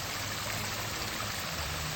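Water rushing down a backyard stream and pondless waterfall under construction, a continuous close, even hiss of flowing water with no breaks.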